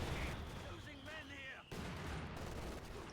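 Mortar barrage in a real-time strategy video game, with distant booming impacts and rumbling blasts under a low, constant battle din, followed by a brief lull and then renewed heavy fire.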